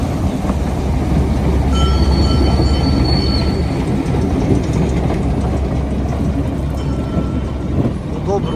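A small train on the children's railway in Lviv rolls steadily past with rumbling wheels and occasional high squeals from the rails, loud and continuous.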